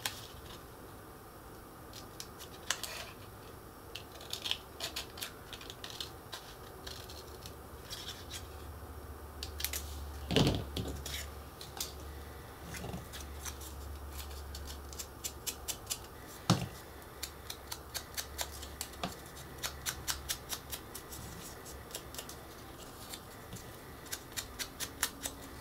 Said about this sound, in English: Now on these edges that I just marked, I am going to cut back a 16th of an inch on those.